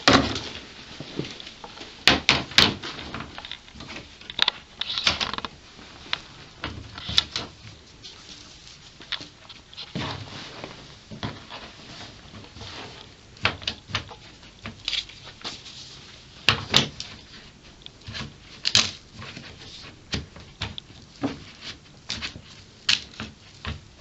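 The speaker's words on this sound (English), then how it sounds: "So we will remove our hoop from the machine." An embroidery hoop being taken off and refitted to a Baby Lock Solaris embroidery machine: a run of sharp plastic clicks, taps and light rattles scattered irregularly over a quiet background, close by.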